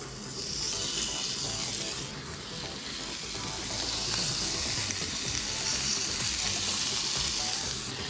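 Oiled grilled lamb cutlets searing in a hot pan: a dense, even sizzle and crackle that holds steady throughout at moderate loudness, with no talking.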